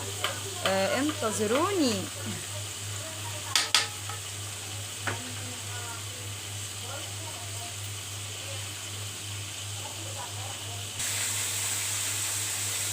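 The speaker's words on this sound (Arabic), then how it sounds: "في نفس الوقت السمك ورا بيتقلي" Tilapia fillets fry in hot oil, giving a steady sizzle and hiss throughout, with a few clinks of a pan and utensils early on and a brief spoken word over the frying.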